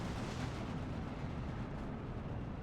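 Dense, continuous rumble of explosions and artillery fire in the World War II strategy game Steel Division 2, loud and sustained with no clear pauses between blasts.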